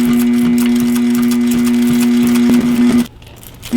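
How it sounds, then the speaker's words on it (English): A loud, steady mechanical hum of an industrial sewing machine stitching runs continuously, then abruptly stops near the end, leaving a quieter background. "We're gonna head back over to the big girl sewing machine again."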